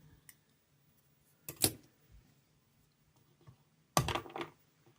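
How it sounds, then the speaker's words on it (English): Small scissors snip excess thread at a fly-tying vise: two quick, crisp clipping bursts a few seconds apart, close and quiet against a faint background hum. "Come on then with our scissors and knock away that excess."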